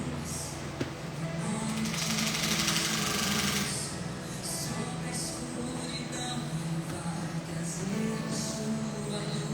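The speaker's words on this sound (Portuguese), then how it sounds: "Espera aí que meu ventilador." A household electric fan runs with a steady, continuous whir and hum that holds an even level throughout, with no talk over it.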